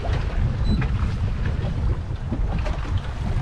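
Wind buffets steadily against the microphone with a low, rumbling roar and faint splashing water, as if out on a boat, and nobody speaks.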